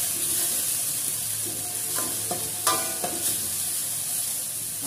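Desi ghee sizzles in a pan for rajma masala, a low steady frying hiss with a few brief spoon clinks near the middle.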